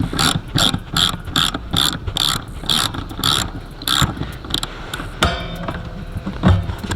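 A ratchet loosens a bolt under a Box Chevy bench seat, with rapid rhythmic clicking bursts repeating close up, followed by some metallic clatter.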